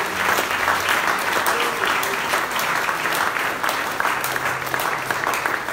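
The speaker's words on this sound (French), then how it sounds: "Nous acclamons Jésus." A church congregation applauds in praise of Jesus, a dense, steady wash of clapping from many hands that fills the room for several seconds, with faint voices mixed into the crowd.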